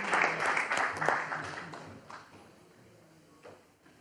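Applause for a boxer stepping off the scale at a European super-welterweight championship weigh-in, a burst of clapping that fades out over a few seconds, with a voice briefly audible over it.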